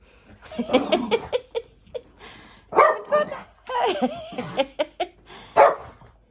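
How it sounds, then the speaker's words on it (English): Two dogs, a Scottie among them, bark and yip downstairs in a chaotic house with a TV on, repeated bursts coming over people talking and laughing nearby. "we've got two dogs downstairs because we're looking after my friend's dog, and Millie Moo, my little Scottie"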